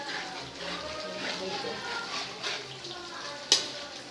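Grated coconut fries in a pan as it is cooked down into coconut oil, giving a steady, close sizzle with a sharp click near the end.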